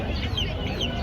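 At a busy bird market, a chicken gives a brief, soft cluck over low background murmur.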